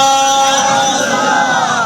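A large crowd at a Shia religious gathering chants slogans together in a loud, sustained roar of many voices, tonal and reverberant, filling the whole stretch.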